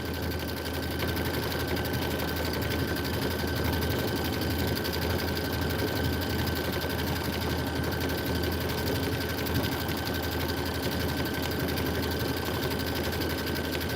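Sewing machine stitching pieced mitten blocks for a winter quilt, a steady continuous whir at an even pace throughout, close and uninterrupted.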